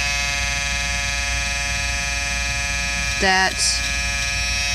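A Wahl Peanut electric shaver buzzing steadily up close while it removes embroidery stitches from fabric. The hum holds for the whole stretch, and a brief word is spoken near the end.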